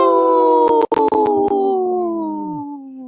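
A woman imitates a wolf howl, a long sustained wavering cry that slides downward and fades out, loud and close, with brief clicks partway through.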